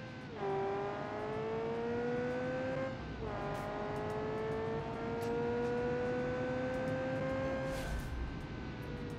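A light 710-horsepower hatchback with a manual gearbox and front and rear differentials accelerates hard: a loud, continuous engine whine climbs steadily in pitch, drops briefly at a gear change, then climbs again.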